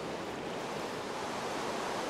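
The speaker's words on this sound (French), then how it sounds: "Et on remonte la cascade." Steady rushing water of a waterfall in the Minecraft video game, a continuous dense hiss holding at an even level throughout with no breaks.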